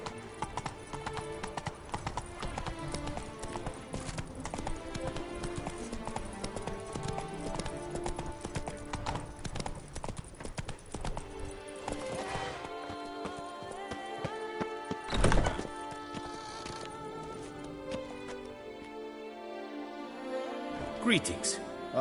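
Roach, the horse in The Witcher 3, trots with a steady clip-clop of hooves running under game music, and a voice speaks briefly partway through.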